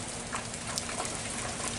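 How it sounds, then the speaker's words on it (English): Steady rain falls during a hurricane, a continuous even hiss of drops pattering on surfaces with no voices, after the wind had picked up earlier. "So now we're raining. The wind had kicked up earlier."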